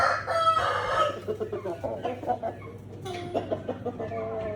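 A rooster crows loudly nearby at a poultry market, followed by a series of short clucks and other fowl calls with faint background noise.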